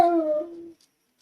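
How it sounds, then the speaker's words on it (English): A single drawn-out dog howl, close and fairly loud, sliding slightly downward and fading after under a second, followed by faint distant yips from dogs in the background. "Excuse my dogs in the background."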